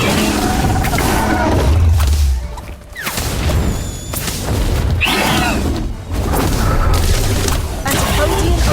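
Bomb explosion spell cast in the Harry Potter: Magic Awakened game: loud booming blasts and whooshing effects repeat across the clip amid busy game audio, dense and close.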